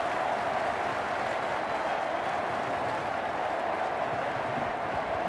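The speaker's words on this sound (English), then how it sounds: "the crowd are chanting, giving him tremendous support" A stadium crowd at a 1995-96 Benson & Hedges one-day cricket match between Australia and the West Indies roars steadily in support of Michael Bevan, a dense, continuous wash of cheering and clapping heard from a distance without pause.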